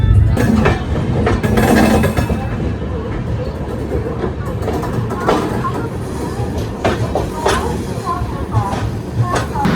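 Indian Railways 12839 Howrah–Chennai Mail passenger train rolling into Khurda Road Junction in Odisha, a steady loud rumble with rattling from the coaches and voices in the background throughout.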